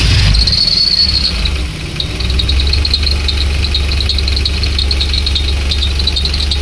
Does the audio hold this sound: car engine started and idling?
yes